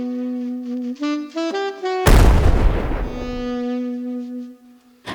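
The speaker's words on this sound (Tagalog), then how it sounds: "malakas na pagsabog ang narinig" A single loud car explosion bursts in sharply, cutting over a sustained tonal hum, then its rumbling roar slowly decays over a few seconds.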